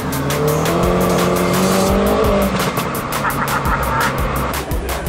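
A car engine is driven hard through bends with the window open, revving loudly with rising and falling engine tones and tire squeal, close and continuous.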